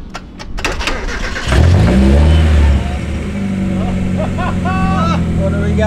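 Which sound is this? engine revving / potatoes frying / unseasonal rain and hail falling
engine revving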